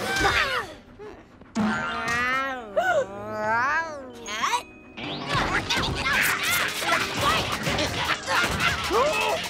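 A cartoon cat in the animated series Kid vs. Kat meows loudly in rising and falling cries, followed by busy voices talking over background noise.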